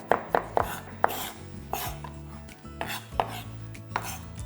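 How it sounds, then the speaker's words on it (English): A knife finely chops cornichons on a cutting board: a run of sharp, close knocks in an uneven rhythm, some quick and clustered, others spaced apart, with no talk. "Again, as fine as you can be bothered to chop it."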